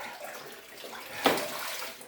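Water is poured over the shoulders in a chest freezer ice plunge, a soft steady splashing wash with one brief louder gush midway.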